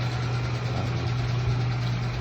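A motorcycle engine idles steadily at close range, a constant low hum with an even drone and no changes in speed, and no voices over it.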